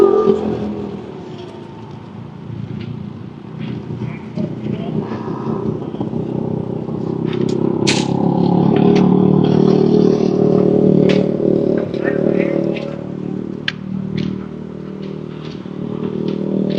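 Flat track racing motorcycles rev and drone at a Georgian racing event, a loud sustained engine roar that swells and holds, with brief clatters and crackles mixed in and no speech.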